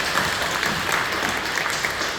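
A church congregation claps together in a steady, dense patter of applause, fairly close and moderately loud, with no voices over it.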